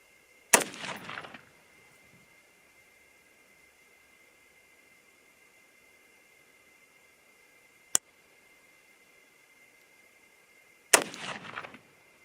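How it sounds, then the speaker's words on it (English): Two loud rifle shots, fired from a .243 Win or 6.5 Creedmoor varmint rifle while shooting a group, crack about ten seconds apart, each with a short rolling echo, and a faint click falls between them. "that second shot went high"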